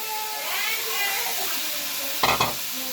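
Chopped winter vegetables and lentils fry in a pan for chicken khichuri, giving a continuous sizzle with a brief clattering stir partway through, while someone speaks faintly over the cooking.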